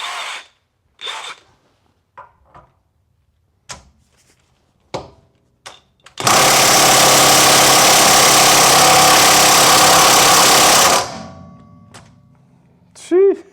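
A cordless impact wrench runs at full power on a VW Jetta MK6 during a rear drum-to-disc brake upgrade, hammering loudly and continuously for about five seconds after short bursts of talk and clicks.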